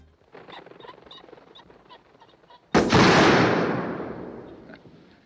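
A single loud, sharp gunshot from the skeet shooting scene of the James Bond film Moonraker bursts out after a quieter stretch of faint murmuring, then rings away in a long decaying echo.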